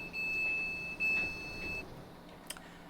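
Door-closing warning beeps of a Class 700 Desiro City train in Train Simulator, a steady electronic tone holding for almost two seconds at moderate level, then fading into a quiet hum.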